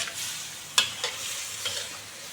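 Boiled bamboo shoots and chicken offal sizzle in a hot pan, with a few sharp scraping stirs cutting through the steady frying hiss.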